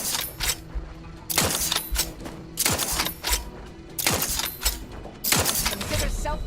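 A gun fires in the video game The Outer Worlds 2, letting off about five sharp, rapid bursts of shots separated by brief pauses, loud and close over a low ambient rumble.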